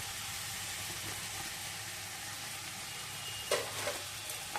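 Minced garlic and flour fry in butter with a steady, bright sizzle that fills the whole stretch, and a few louder crackles and spatters come near the end.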